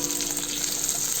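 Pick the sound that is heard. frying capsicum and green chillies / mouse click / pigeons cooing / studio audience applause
frying capsicum and green chillies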